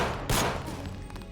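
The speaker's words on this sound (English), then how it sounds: "The gunfire is probably attracting other people." A short burst of gunfire in the video game Deus Ex, one loud sharp report followed by a fading tail, heard alone.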